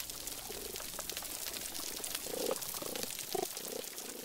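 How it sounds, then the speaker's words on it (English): Snapping shrimp on a coral reef give a dense, continuous underwater crackle like frying fat, faint and steady, with a few low grunting tones mixed in. "when you put all the snapping shrimp together, you get that crackling sound."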